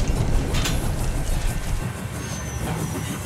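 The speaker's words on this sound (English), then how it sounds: "It's like an old train." A train rumbles steadily, loud and close, with a dense low roar, rhythmic rail clatter and faint squeal, continuous throughout with no talk.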